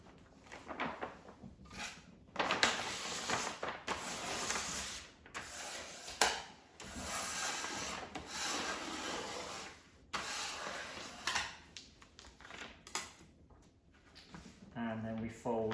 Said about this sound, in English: So we fold to the middle